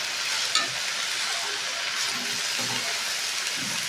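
Red amaranth greens with salt being stirred and cooked in a pan, giving a continuous soft sizzle with occasional scraping from the stirring, close and steady without talk.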